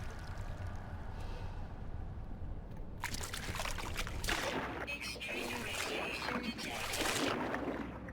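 Water in the No Man's Sky video game flows and splashes steadily, a soft trickle that swells into a louder, broadband rush of pouring water partway through.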